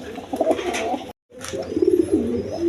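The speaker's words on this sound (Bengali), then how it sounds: "দর্শকবৃন্দ এখানে এক পেয়ার রেশার কবুতর আছে" A pair of racing pigeons coo close by in low, throaty rolling calls, repeating across a couple of seconds with a brief gap of silence in between.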